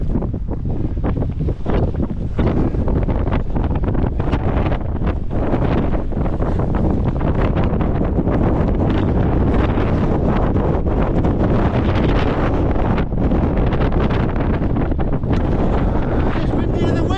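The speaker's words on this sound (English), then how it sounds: "It's windier than Wednesday. Yeah, definitely windier." Strong gusting wind on a rocky mountain ridge of Y Lliwedd, buffeting the microphone with a continuous loud roar and rumble, dense low-end wind noise throughout and no break in the gusts.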